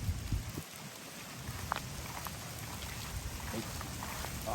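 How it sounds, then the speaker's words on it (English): Steady rain falls outdoors in lizard habitat, a soft continuous patter with scattered droplet ticks and faint low rumble, fairly quiet and unbroken throughout. "It's starting to rain a little too hard."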